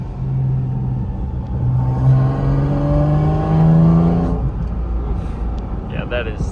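A Porsche 718 GT4 RS climbs through the revs, its intake roaring right behind the cabin occupants as the pitch rises steadily, then drops off with a shift; voices talk over the engine.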